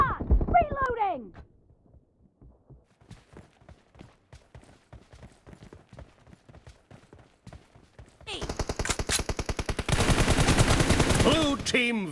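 Mobile shooter game team deathmatch: rapid bursts of gunfire, first faint clicking shots, then loud sustained automatic fire close up, with voice callouts mixed in at the start.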